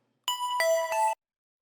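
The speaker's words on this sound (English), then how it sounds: "The Massive layer sounds like this." A bright synth pluck layer from a Massive preset plays three quick notes in succession, clean and tonal, as one short phrase that cuts off sharply, with silence before and after.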